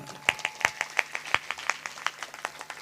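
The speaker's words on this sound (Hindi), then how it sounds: "सुकन्या के लिए एक बार तालियां बजाइए ना" Clapping from listeners at a Hindu devotional discourse on the Devi Bhagwat, a modest scattering of distinct claps at an uneven rhythm, fairly sparse and mid-distance.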